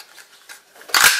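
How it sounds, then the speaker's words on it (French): A small flower-shaped paper punch cuts through paper during scrapbook card making, a soft rustle followed by one sharp close crunch of the punch near the end. "Je dois avoir une petite perfo fleur"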